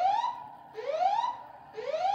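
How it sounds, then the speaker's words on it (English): Building fire alarm going off, a loud electronic siren sweeping upward in pitch three times in quick repeating whoops, heard alone. "my building fire alarm just went off"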